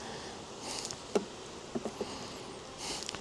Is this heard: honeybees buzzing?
yes